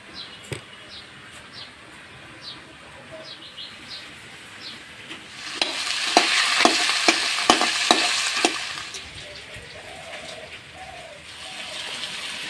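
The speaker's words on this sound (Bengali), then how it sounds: "এভাবে মাছের মাথাও আরো ভাজা হয়ে যাবে আর পেঁয়াজ কুচিটাও ভাজা হয়ে যাবে।" Catla fish head and chopped onion frying and being stirred in a pan, a steady sizzle that swells loudly midway with scraping stirs, while birds chirp faintly in the background.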